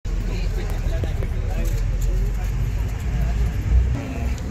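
A sitting-plus-sleeper bus on the move gives a low, continuous engine and road rumble beneath close conversation.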